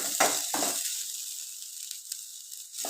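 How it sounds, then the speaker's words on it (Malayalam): Garlic fries in hot oil with a steady, bright sizzle. A couple of stirring scrapes come near the start and again at the end, close up with no talking. "വെളുത്തുള്ളിയും എണ്ണ ചൂടാക്കിയിട്ട് അതിലേക്ക് ഇട്ടിട്ടുണ്ട് എന്നിട്ട് നല്ലോണം ഇളക്കാം"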